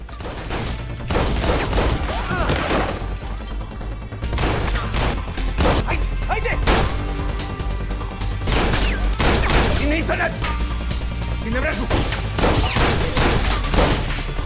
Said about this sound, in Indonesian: Dan bawahan Brezhnov kembali ditembak.